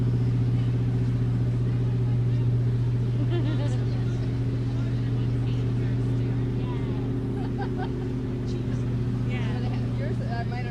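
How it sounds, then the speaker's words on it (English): The USS Detroit warship docking, its engine a steady low rumble with a constant droning hum throughout, with people talking nearby over it. "You can really hear that engine now."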